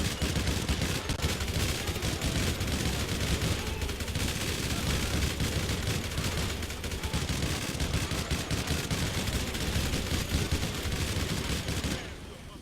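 Sustained, dense rapid gunfire from a minigun in GTA Online, a continuous loud roaring burst of fire lasting over twelve seconds, tailing off at the end with background game noise.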